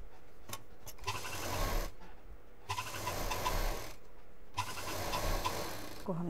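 A sewing machine stitches through doormat fabric for a sea shell shaped doormat in three bursts of steady mechanical whirring separated by short pauses, fairly close and moderately loud.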